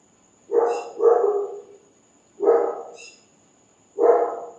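A dog barking outdoors in the morning: four sharp barks in uneven spacing, fairly close, over a quiet background with a faint steady high tone.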